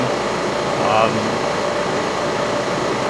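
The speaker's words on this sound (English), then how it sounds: "about 3 feet in front of me is the AC compressor" A car's air conditioning compressor running about three feet away gives a steady, close mechanical hum with a fan-like hiss and a brief tonal whine near the middle.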